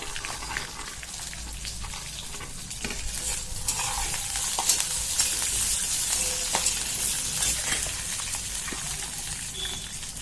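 Green chillies and peanuts roast in a pan together with garlic cloves, producing a constant bright sizzle overlaid with stirring scrapes that continue for the whole stretch.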